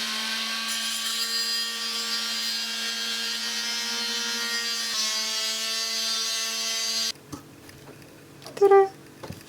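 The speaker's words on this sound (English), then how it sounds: "While we had the multi-tool out, we cut the PVC pipe to size." A multi-tool oscillating blade cuts PVC pipe aboard a boat during a windlass repair, a steady high buzzing whine for several seconds that stops abruptly, followed by quiet handling and a short clatter.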